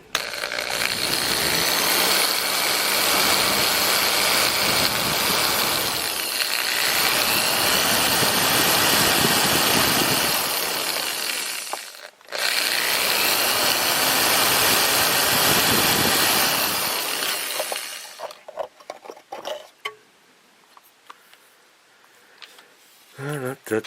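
A power drill spins loudly in a continuous high whir for a model railroad HO bridge project, briefly cutting out and restarting midway, then stopping, leaving only scattered small handling sounds.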